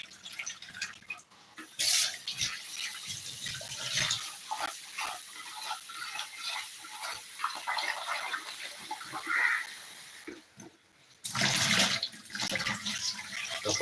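Mackerel washed by hand under running water, a close, steady splash and trickle with wet handling noises and louder surges as the flow strikes the fish.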